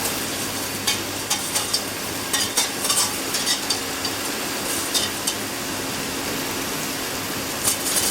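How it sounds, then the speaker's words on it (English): Boiling water poured over instant noodles in a cooking class: a steady, close hiss of running water lasting several seconds, dotted with small clicks and crackles. "and then I'll pour some boiling water on top."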